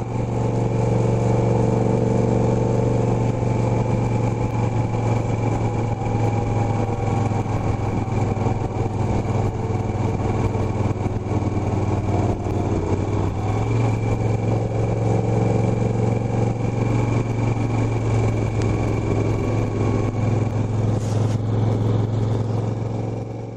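A 50-year-old Moto Guzzi motorcycle climbing a mountain pass toward snowy peaks on a nearly bald rear tyre, its engine droning steadily and loudly at close range with a constant low hum, small shifts in revs, and no talk.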